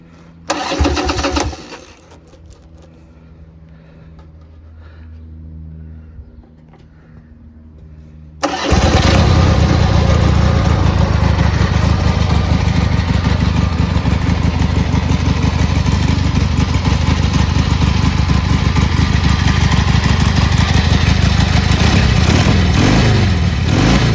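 A 1984 Harley-Davidson Ironhead Sportster XLH 1000cc motorcycle engine cranks and then fires, settling into a loud, steady, close-up idle that runs unbroken to the end, following a few seconds of quieter starter noise.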